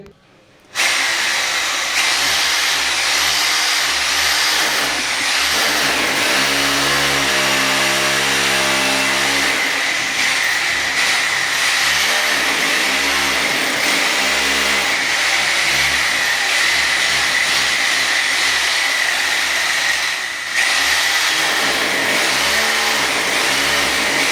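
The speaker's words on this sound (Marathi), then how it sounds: "आणि डायरेक्ट त्यानंतर इथं आपण होलला बरोबर ड्रिल करणार." A power drill bores a hole into a home wall for mounting a Crompton 5-litre water geyser, a loud, steady whine and grind running nearly unbroken for over twenty seconds after a brief start.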